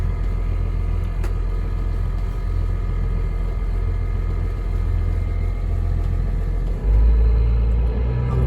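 A boat motor runs steadily with a deep, continuous low rumble, close and loud, its pitch holding constant as the boat motors toward a navigational post, with a slight surge near the end.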